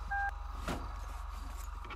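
A single short touch-tone keypad beep from a phone being dialed rings out at the start, then a steady low engine-like hum carries on alone.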